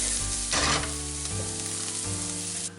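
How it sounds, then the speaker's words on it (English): Garlic sautéing in a pan as the base for a Roma tomato pasta sauce gives a steady, close sizzle, with a louder burst of frying crackle about halfway through. "So we're just going to get a light saute on it"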